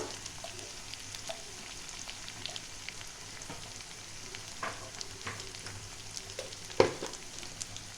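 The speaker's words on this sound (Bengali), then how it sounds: "লাল লঙ্কা ঝালের জন্যে অল্প পরিমাণে একটু শুকনো লঙ্কা দিচ্ছি। এটা একটু ভেজে নেব।" Salt, turmeric, Kashmiri chilli powder and dried red chilli frying in a little oil for a Bengali dohi potol, a soft, steady sizzle with light stirring clicks and one sharper knock near the end.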